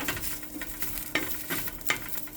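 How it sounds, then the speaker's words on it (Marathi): Coriander seeds dry-roasting in a hot pan, a steady soft rustle with a few sharper scrapes of stirring, close by and fairly quiet, no voices. "आणि सेम तोहीच पळय कोरिएंडरय भाजता हांव"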